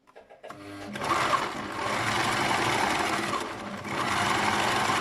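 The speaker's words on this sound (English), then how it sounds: "Sorry, don't mind my machine here, it just fell down now when I was sewing" An electric sewing machine stitches fabric for a braided turban hat, running in a steady, close mechanical whir after a few short starts.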